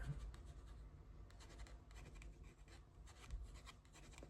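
A pen scratches softly across paper during a doctor's examination role-play, continuous close rubbing strokes with small taps, quiet and intimate with no talking.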